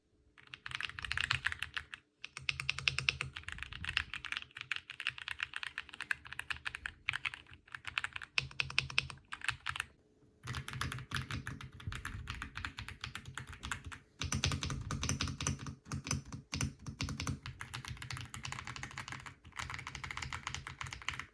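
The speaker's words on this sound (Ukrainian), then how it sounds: "Ось послухайте, як звучить клавіатура просто на столі і на килимку." Steady, close computer keyboard typing, fast clattering keystrokes in bursts separated by brief pauses.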